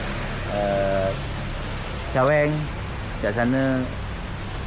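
Morning rain falls steadily in a continuous hiss on Koh Samui, while people talk briefly over it.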